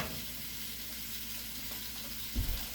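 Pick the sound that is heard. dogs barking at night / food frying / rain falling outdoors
food frying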